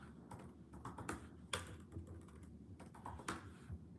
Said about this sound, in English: Me aggressively typing.